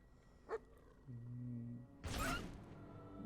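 A dog in the video game Fable 2 gives a short bark, then there is a low humming tone, then a loud burst that sounds like an impact or a gunshot.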